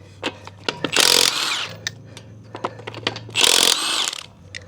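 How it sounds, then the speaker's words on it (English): An impact wrench fitted with a 19 mm socket, removing lug nuts while repairing a slow-leaking tire, fires two loud, close bursts of rattling hammering with clicks and handling noises between them. "we're going to take our 19 mil impact and we're going to take it off"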